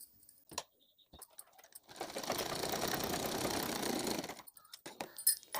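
A sewing machine stitches a potli bag in one steady run of about two and a half seconds, with quiet handling clicks before and after.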